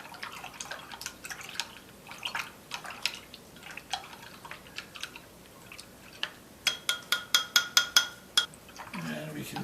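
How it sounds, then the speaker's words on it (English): A spoon stirs yeast into warm water in a bowl for bagel dough, giving repeated light clinks against the sides that speed up into a quick rhythmic run near the end, with a voice speaking faintly at times. "We'll stir it up."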